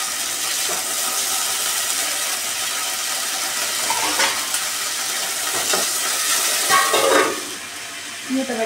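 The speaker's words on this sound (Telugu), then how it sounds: "ఆయిల్ వేసుకొని ఆయిల్ హీట్ ఎక్కిన తర్వాత మనం ఏవైతే పచ్చిమిర్చి ఇప్పటిదాకా తీసుకున్నామో అవి శుభ్రంగా కడుక్కొని ఇందులో వేసేసుకోవాలి" Green chillies fry in hot oil for a gongura pachadi, making a loud, steady, close hiss with brief crackling spurts and a few faint utensil scrapes.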